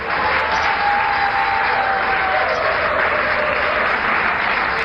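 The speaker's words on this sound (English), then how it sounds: "I need a better round of applause" Dense, sustained audience applause from a large crowd, steady and loud for the full few seconds, with no voice standing out.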